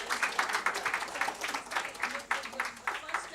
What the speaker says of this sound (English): And then give them a big hand of applause.